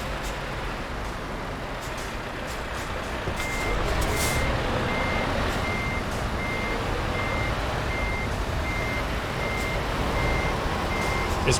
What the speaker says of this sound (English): It's quite interesting trying to line your truck up while there's all kinds of trucks swirling around.